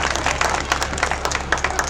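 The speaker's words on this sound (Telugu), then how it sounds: "ఒకసారి అందరం గట్టిగా చప్పట్లు కొడదామా?" A church congregation applauds with quick, dense clapping that stays steady and fairly loud throughout.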